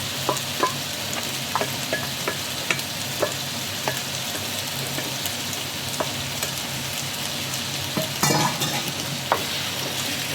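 Sweet and sour sauce is stirred into crispy pork frying in a pan for Cantonese sweet and sour pork. A steady loud sizzle carries intermittent scraping stirs throughout, with no talking.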